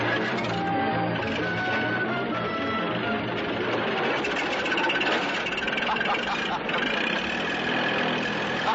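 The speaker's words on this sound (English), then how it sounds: "I'll run you off with this tractor" A tractor engine runs close by with a loud, steady mechanical chugging drone that continues unbroken throughout, while people talk over it.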